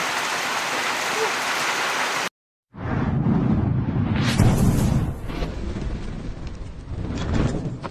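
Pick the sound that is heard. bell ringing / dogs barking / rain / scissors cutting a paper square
rain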